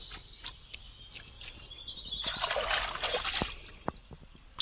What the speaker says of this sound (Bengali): মাছগুলো এখন ধুয়ে নিচ্ছি